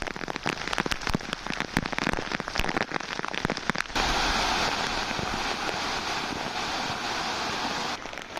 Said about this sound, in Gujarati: મંદિરના પગથિયા પરથી પાણી વહી રહ્યું છે